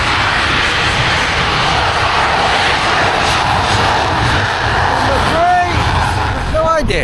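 A military jet passes overhead on the way to New York with a loud, sustained broadband roar, and voices speak over the engine noise.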